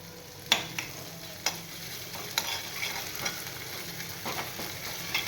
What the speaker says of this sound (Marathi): आलं आणि मिरची मी सेम प्रमाणातच घेतली आहे दोन्ही। छान अशी परतवून घेते मी मस्तपैकी।